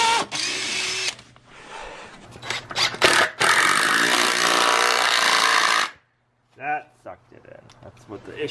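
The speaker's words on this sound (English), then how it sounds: "Let's get the other side drilled out first." A power drill boring into wood while customizing a barn build, running loud and close in long sustained whirring bursts that stop and restart, then falls silent before a few short knocks.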